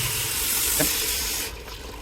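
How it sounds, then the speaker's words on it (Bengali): Hot water poured into a pot of fried rice for pilaf, a steady hissing, steaming pour that runs close and fairly loud, then drops off abruptly near the end, with no talking. "এখন গরম জল দিচ্ছি আমরা।"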